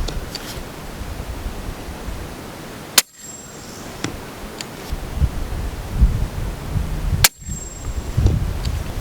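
Two sharp, loud suppressed subsonic 300 Blackout gunshots from a 9-inch barrel fitted with a Diligent Defense Enticer S suppressor, each with a brief metallic ping, spaced about four seconds apart over faint outdoor rustling.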